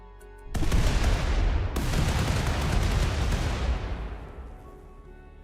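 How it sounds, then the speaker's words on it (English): Dominator two-round burst weapon from the Rimworld game, with a Save Our Ship 2 spaceship setting, fires at an enemy ship: a loud sharp blast followed by another, merging into a sustained booming rumble that slowly fades. "Last up, we have the Dominator, which is a 2-round burst, and let's see what it does against the enemy ship."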